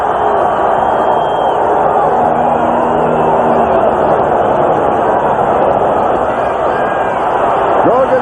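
Crowd in a football stadium at a 1985 Colts at Patriots game, a loud, dense, steady roar of thousands of voices with no breaks, under a faint layer of commentary.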